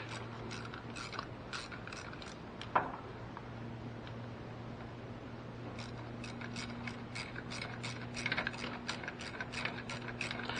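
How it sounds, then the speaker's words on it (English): A ratchet with a wobble socket and extension backs out bolts on a 2004 Ford Focus during belt and idler pulley work, giving quiet rapid pawl clicking in long runs with one brief knock, close by under a steady low hum. "We can use our wobble socket and tenon extension to just remove the bolts the rest of the way"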